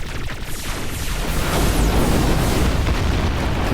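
Rapid weapon fire and rolling explosions from the side-scrolling shooter Syder Arcade, a continuous dense barrage of booms and bursts that builds louder and stays intense throughout.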